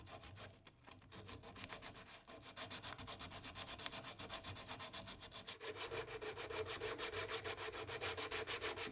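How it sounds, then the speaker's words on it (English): Sandpaper rubs by hand along a wooden guitar neck in quick, regular back-and-forth strokes that grow steadier and louder, close up with no talking. "then I'll use a file, and I'll move down to some sandpaper"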